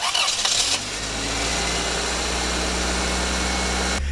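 A 24-year-old car engine cranks and catches from a cold start, then settles into a steady, loud, high idle with constant mechanical hum, running alone without talk.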